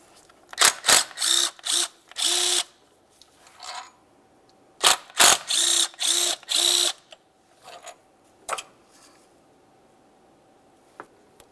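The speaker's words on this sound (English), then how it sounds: "On each side of the housing, you'll find a 10mm headed bolt. Remove the pair." Two 10mm bolts being removed from the thermostat housing on a 2003–2010 Mercury Grand Marquis intake, heard as close, rapid ratchet bursts in several runs, then quieter clicks and handling.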